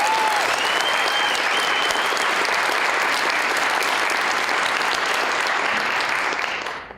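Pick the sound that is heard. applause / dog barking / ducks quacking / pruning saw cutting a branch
applause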